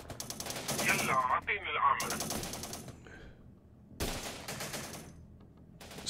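Machine gun fire from a Daesh unit in the PC war strategy game Syrian Warfare: Return to Palmyra, with loud bursts of rapid shots that break off and resume, spread across a busy battle mix.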